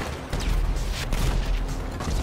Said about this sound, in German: Zwei Schüsse, zwei Treffer.